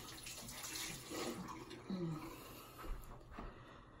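Water runs from a bathroom tap into a sink, a steady broadband rush with a few splashy surges, fairly close and alone without talk.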